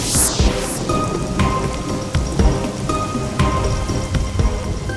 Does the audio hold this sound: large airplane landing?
no